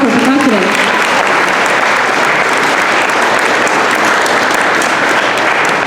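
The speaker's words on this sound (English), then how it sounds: "give a round of applause for percussionists" Loud, sustained applause from a crowd at a school band concert, dense clapping filling the whole stretch without letting up.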